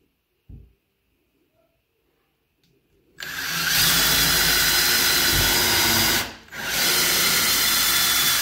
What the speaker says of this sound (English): So I'll just go ahead and pre-drill and